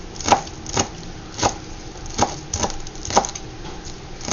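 A knife chops green onion on a cutting board for shrimp fried rice, about eight crisp, woody knocks at an uneven, unhurried pace, close and clear with no talking.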